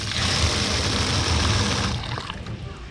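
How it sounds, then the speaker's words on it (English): Cold water from a tap pours steadily over fish in a kitchen. The rushing splash is close and continuous for about two seconds, then tapers off. "And then we're going to cover it with some water."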